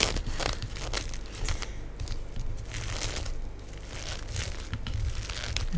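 Plastic wrap crinkled and torn close up, a dense continuous crackle with sharp snapping bursts scattered throughout, loud and unbroken with no speech.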